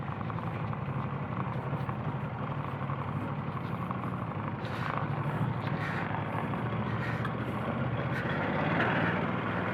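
A Ducati Multistrada or BMW GS1300 adventure motorcycle spins its rear tyre as it loses traction off-road. The engine gives a steady, loud, throaty drone with gritty rumble throughout.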